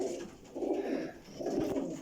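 A high-quality breeding pigeon coos in two soft, rolling phrases, fairly close and alone with no voices.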